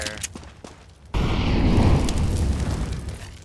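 A grenade bursts on the Overpass map in Counter-Strike, a sudden loud blast that roars on for a couple of seconds, following a stretch of quieter in-game ambience.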